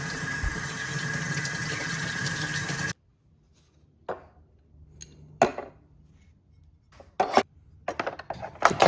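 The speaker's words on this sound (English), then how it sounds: "Once the parts come out of the Evaporust, they go straight into a water bath." Metal parts of a Stanley Bedrock 608 hand plane, fresh from Evaporust, go into a water bath; a steady running-water rush stops abruptly, followed by scattered clinks, splashes and rubbing knocks of metal in water.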